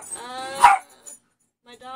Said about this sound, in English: My dog is annoying.